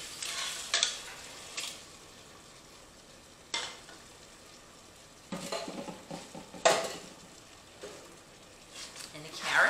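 Browned hamburger meat frying in a pot as tomatoes are tipped in, with a steady close sizzle broken by a few sharp clatters and stirring scrapes; no one speaks.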